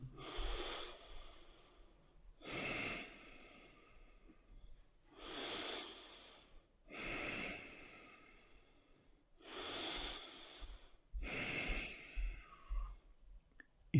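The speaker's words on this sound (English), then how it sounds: "Deep breathing." Slow, deep breathing during a yoga class of standing poses: six long, audible breaths, each a soft airy rush, separated by quiet pauses in an even rhythm, heard close up.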